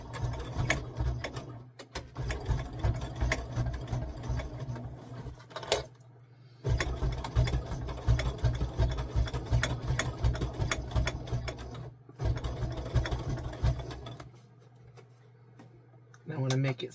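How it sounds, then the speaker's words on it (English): A sewing machine runs a straight stitch at stitch length 4 with a jeans needle, whirring in steady mechanical runs broken by short pauses, with a voice talking over it. "I'm using a straight stitch at a 4 for the stitch length. And I'm just going to start sewing."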